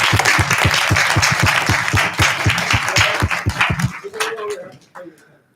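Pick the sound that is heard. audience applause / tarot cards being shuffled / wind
audience applause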